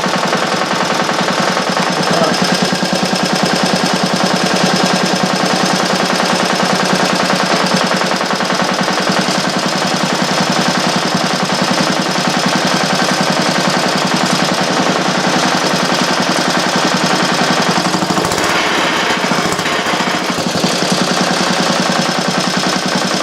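Rebuilt Clinton small engine running with a rapid, loud mechanical rattle and knocking chatter, continuous and close, with a short dip in the sound near the end.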